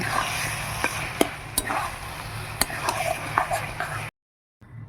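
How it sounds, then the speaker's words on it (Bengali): Spoon stirring garam masala into a rohu fish head and cabbage curry in a pan, a steady close scraping and soft sizzle with a few sharp clinks of utensil on metal, stopping abruptly near the end. "একটু গরম মশলা ভালো করে মিশিয়ে নেব"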